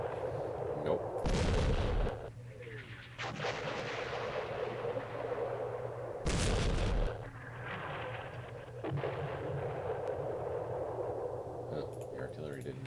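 Artillery and mortar fire in the Vietnam war game Campaign Series Vietnam: two loud, broad booming blasts a few seconds apart, each followed by a lingering rumble, with a voice talking throughout.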